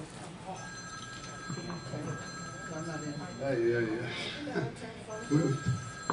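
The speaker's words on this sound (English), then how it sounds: "Somebody's phone." A mobile phone rings with a steady repeating electronic tone during a town hall meeting in a hall, sounding through and under people talking nearby.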